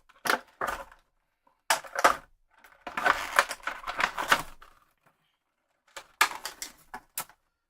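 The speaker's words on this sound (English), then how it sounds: "Let's get Jean-Paul Valley out of the plastic here." A DC Multiverse Jean-Paul Valley action figure comes out of its plastic packaging in bursts of crinkling, tearing and scraping plastic, close and fairly loud, with short silent pauses between the bursts.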